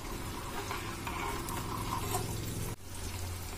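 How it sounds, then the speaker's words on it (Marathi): Herbal hair-oil mixture with black pepper simmering in a pan on a low flame, a soft steady bubbling and faint sizzle with occasional stirring clinks, quiet and close with no voices. "आणि हे मंद आचेवर छान उकळवून घ्यायचे आहे. हे बघा हे छान उकळत आले"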